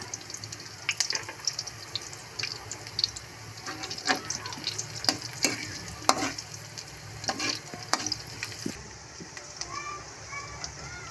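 Leftover fish stir-fried in a pan, sizzling under repeated scraping and clattering strokes of a utensil, close and lively, with a person talking at moments.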